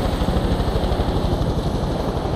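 A helicopter in Far Cry New Dawn thunders close by, its rotor chopping out a rapid, steady pulse under a loud engine whine, with no voices over it.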